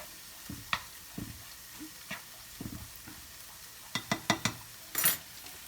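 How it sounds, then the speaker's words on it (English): Stirring taco filling frying in a pan, a series of close scraping and clinking strokes of a utensil against the pan, irregular at first and then a quicker burst of knocks, over a soft background sizzle. "let's go back over here and stir this up"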